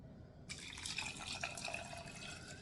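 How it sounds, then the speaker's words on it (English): Water pours steadily into a pot of chicken after a brief quiet moment, a continuous splashing stream that stays fairly soft throughout. "I'm going to add some water."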